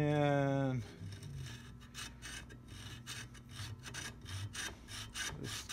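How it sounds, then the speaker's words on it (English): A hacksaw cuts a wide blade key for an antique mortise lock, clamped in a vise, making a steady series of rasping back-and-forth strokes up close after a short spoken word. "one of the best ways to cut one of the wider blade keys with that edge cut is with a plain old hacksaw"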